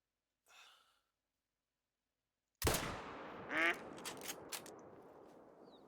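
A duck quacks in the hunting video game Hunter: Call of the Wild: a faint short call first, then a loud sharp burst followed by a rising, warbling quack and fainter trailing sounds, with no talk.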